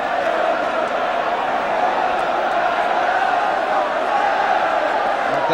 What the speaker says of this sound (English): the cry from the Tottenham crowd is Wembley, here we come